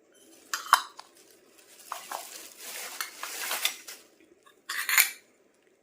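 Metal vessels, pans and kitchen utensils clink and clatter as they are handled and set down. The bursts of metallic knocks come in irregular clusters at close range, separated by brief quiet gaps, with no talking.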